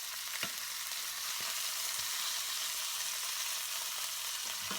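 Seasoned steak frying in a pan for a demi-glace dish at home, a continuous close sizzle with occasional small pops and spatters, steady and unbroken, no voices.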